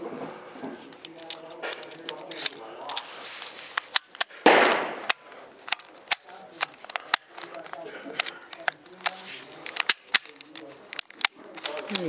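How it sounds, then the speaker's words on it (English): A Grendel P10 .380 ACP pistol fires several sharp, scattered reports, with a louder burst near the middle. People talk between the shots. "Seems to shoot pretty decent."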